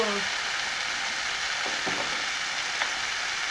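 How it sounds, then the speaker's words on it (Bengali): Spices and salt fry lightly in a hot pan for a rui fish and okra curry, giving a steady, even sizzle with a few faint stirring scrapes. "নুনটা দিয়ে হালকা ভেজে নেবো"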